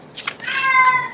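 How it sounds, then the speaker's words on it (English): A domestic cat meows close by, a short sharp call that flows into a longer rising meow, loud and alone with no talk over it. "Excuse my cat."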